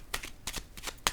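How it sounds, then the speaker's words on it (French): Tarot cards being handled and laid down, giving a quick run of crisp papery flicks and slaps, four or five close brushes in just over a second with no voices. "je vais déposer une autre carte"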